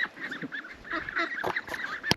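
An old red-faced duck calls on a pig farm, giving a run of soft, nasal honking notes close by over faint background noise, ending on one sharper note.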